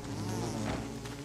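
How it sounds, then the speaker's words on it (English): Steady insect-like buzzing of a bee in the survival game Don't Starve Together, continuous and fairly loud with a busy drone throughout and no talk. "this bee is really getting on my nerves"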